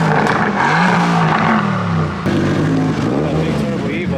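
Turbocharged Mitsubishi Evo at a private supercar meet, its engine loud and close, revving up in two sustained pulls with rising and falling pitch, with people talking over it.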